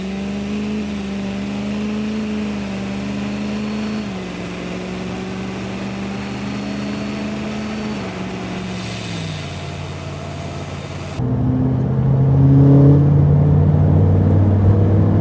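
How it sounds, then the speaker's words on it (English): A 2020 GMC diesel pickup with the L5P Duramax engine runs on the road, a steady low engine drone that shifts pitch gradually, then grows louder and rougher near the end as the truck pulls harder. "let's plug this in and take the truck out for another drive"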